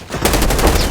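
Rapid burst of video game gunfire, loud and close, beginning abruptly after a brief quiet moment and continuing as dense automatic fire through the rest of the moment.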